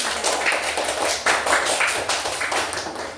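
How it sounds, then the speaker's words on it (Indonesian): Students in a classroom applaud group 3 after its presentation: a dense, steady patter of many hands clapping together, close and continuous for a few seconds, with no talking over it. "beri tepuk tangan untuk kelompok 3"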